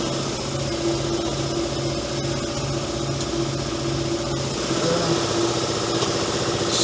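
A tire changer machine turns a clamped wheel with a steady, loud mechanical hum and a regular pulsing rotation, running continuously, with a slight shift in tone near the end.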